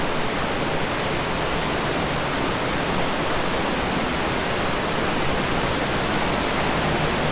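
Zapata Falls rushes as a dense, unbroken roar of falling water, loud and close, steady for the whole stretch with no other sound on top.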